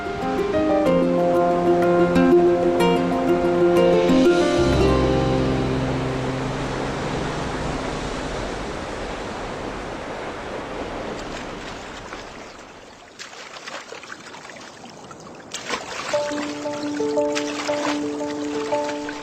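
Waterfall roaring inside a long karst cave in Guizhou, China, a broad steady wash of falling water that stays loud and continuous throughout, with sustained musical tones layered over it at the start and again near the end.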